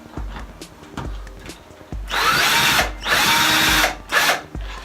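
A cordless power drill with a built-in light whirs up loudly in three bursts, the first long and steady, then two shorter spins with brief pauses, after some quieter handling clatter at the start.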